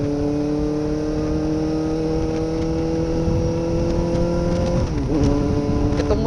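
A motorcycle engine drones steadily while riding with a constant hum, then its pitch dips and shifts near the end as the throttle changes, loud and close throughout.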